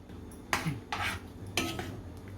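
Drumstick and potato curry stirred in a pot, three scraping, clattering strokes of a metal spoon against the pot in quick succession, close and without talk.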